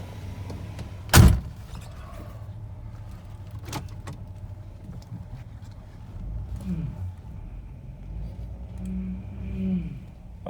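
A vintage Cadillac is shifted into drive, with a loud clunk near the start, then quieter mechanical clicks and a low engine hum, and a rising whine later in the recording.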